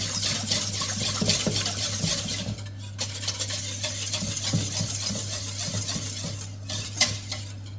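A utensil stirs leche flan ingredients, including condensed milk, in a bowl, giving repeated light clinks and scrapes against the bowl under a steady low hum, with no talking.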